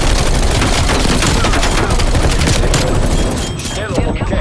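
An enemy gun turret fires in Call of Duty Black Ops Cold War multiplayer, sustained loud rapid gunfire and blasts filling the scene, thinning slightly toward the end.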